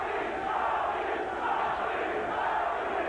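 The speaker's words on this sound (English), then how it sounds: "The crowd cheering, chanting, Tony, Tony, Tony, trying to get him fired up" Boxing crowd at a Tony Baltazar fight roaring steadily, a dense broadband wall of cheering and rhythmic chanting that stays loud and close for the whole stretch without a clear break.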